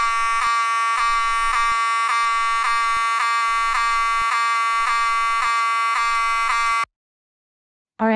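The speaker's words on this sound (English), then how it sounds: "Oh no, not again! Not the fire alarm." Cartoon fire alarm going off inside a house, a loud harsh electronic buzz pulsing in steady repeated beats for several seconds before cutting off, followed by a brief bit of sound at the very end.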